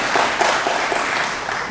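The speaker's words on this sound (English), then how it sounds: "I think that deserves an applause" Symposium audience applauds, a steady mid-loud wash of many hands clapping that tapers slightly toward the end.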